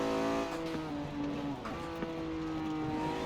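A racing Lamborghini Diablo GTR's V12 roars steadily at high revs in Forza Horizon 4, a dense, loud harmonic drone holding near full speed with brief dips as it settles at its top end.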